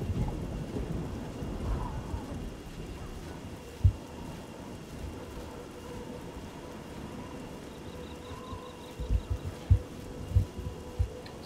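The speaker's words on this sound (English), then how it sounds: "Still raining." Steady rain hisses over the Oblivion game world while distant thunder rumbles and cracks come in several soft low bursts, the last ones clustered near the end. No one speaks.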